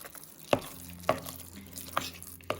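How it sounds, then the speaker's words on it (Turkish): A spoon works through a thick homemade pepper paste spread with cumin and olive oil, giving four distinct sticky, squelching scrapes at a slow, even pace, close and fairly quiet. "Ve tekrar karıştırıyorum"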